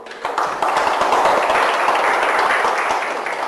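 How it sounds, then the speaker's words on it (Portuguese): A church congregation applauds in dense, steady clapping that fills the room, loud and continuous throughout with no break. "Aplauda Jesus."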